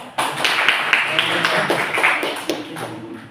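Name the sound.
classroom clapping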